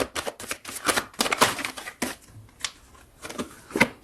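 Tarot cards are drawn and shuffled in a string of close, crisp rapid riffles and flicks, uneven bursts separated by short pauses, with no talking.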